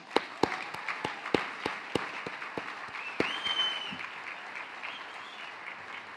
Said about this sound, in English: Please join me in a round of applause for Howard.